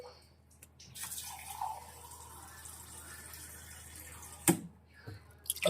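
Two glasses of water poured into washed lentils in a pot for dal, a running, splashing fill in the middle with faint background murmur and a few sharp knocks as the glass is set down.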